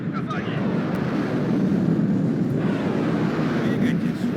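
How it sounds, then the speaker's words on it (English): Aircraft making a bombing run in the video game WARNO, a sustained roaring engine drone with dull rumbling swells, heard beneath a person talking. "Jesus Christ, that bombing run there."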